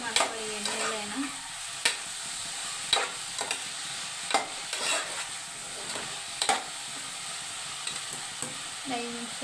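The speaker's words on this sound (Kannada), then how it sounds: "ಚೆನ್ನಾಗಿ ಮಿಕ್ಸ್ ಮಾಡ್ಕೊಳ್ಳಿ ಎಣ್ಣೆಲೇನ." Food is stirred in hot oil in a pan while making ulagaddi palya, with steady sizzling throughout and regular scraping strokes of the spoon, close by.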